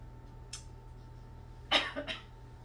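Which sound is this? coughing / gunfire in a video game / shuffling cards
coughing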